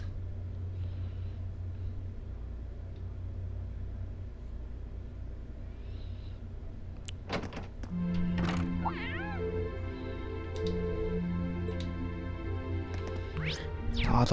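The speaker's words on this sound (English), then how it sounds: "The fucking cat." A cat meowing in the video game Trails of Cold Steel, several short, fairly clear meows joining a low game hum partway through, with a soft vehicle-like rumble underneath.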